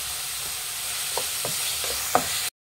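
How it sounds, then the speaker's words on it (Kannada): Chopped spinach frying in a pan for spinach rice, a steady close hiss of sizzling with a few soft stirring scrapes, then abrupt silence at the end. "ಪಾಲಕ್ ಸೊಪ್ಪು ಹಸಿ ವಾಸನೆ ಹೋಗಬೇಕು, ಅಲ್ಲಿವರೆಗೂ ಫ್ರೈ ಮಾಡಿ"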